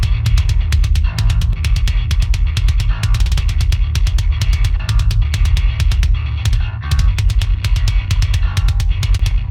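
Kick drum and bass for a heavy metal track, blended together through the Fuser plugin: a loud, dense low-end mix with a rapid, steady pounding kick driving over a sustained bass rumble, no voices.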